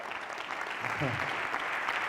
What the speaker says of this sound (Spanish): Y dar un aplauso al Señor